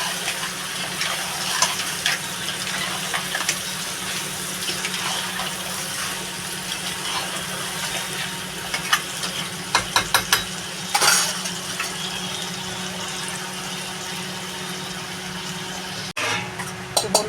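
Water lily stems fry in a pan as they are stirred, a steady watery sizzle with scattered metallic scrapes and clinks of the utensil against the pan, close and with no talking.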